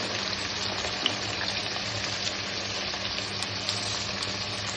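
Tomato sautés in a pan for brinjal curry, giving a continuous sizzling, crackling fry at moderate volume with small pops, and no one talking.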